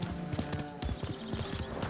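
Horse hooves clip-clopping at a gallop in the game Ghost of Tsushima, a steady rapid rhythm with a brief whinny, mixed with background game music.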